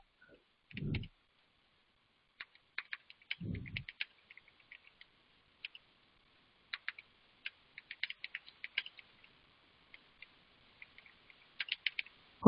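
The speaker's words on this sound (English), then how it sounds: "let me just type it down here" Typing on a computer keyboard, heard as scattered clusters of light, close clicks separated by pauses, with two brief low thumps early on and no talk.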